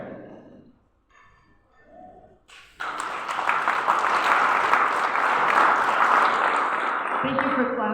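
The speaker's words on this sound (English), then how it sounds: "Thank you for clapping so that I can have a second to come up here" Audience applause breaks out suddenly and holds steady as a dense wash of clapping. It follows brief quiet murmuring and fades near the end as a voice begins.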